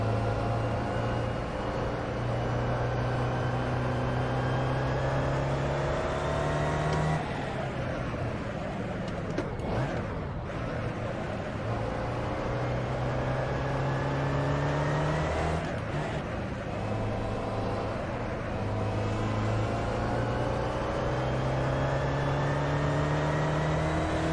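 A car engine in a driving video game, said to have a fragile transmission, drones steadily with layered harmonic whine, its pitch shifting around shifts and revs at about 7, 10 and 16 seconds, loud and continuous throughout.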